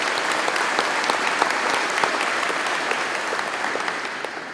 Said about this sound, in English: So a round of applause for Greg.